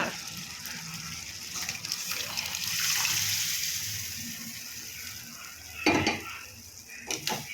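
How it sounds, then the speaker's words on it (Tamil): A spoon stirs lentils into sambar in a cooking pot with soft scraping and a faint sizzle, then a couple of sharper clinks against the pot. "பருப்பு சேர்த்தாச்சு. நல்லா கிளறி விடுங்க."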